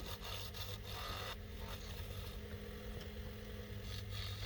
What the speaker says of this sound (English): this little chisel here is letting me just kind of slowly work up those bushings